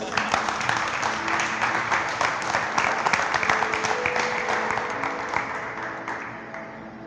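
A church congregation gives sustained, dense applause for God, a steady roar of many hands clapping that fades gradually toward the end, with faint voices mixed in.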